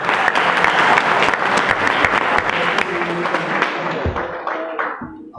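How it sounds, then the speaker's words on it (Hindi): Loud, dense applause from a seminar audience on mind control, many hands clapping steadily and close, then thinning out and stopping near the end. "एक बार अपने लिए जोरदार तालियां बजाएं"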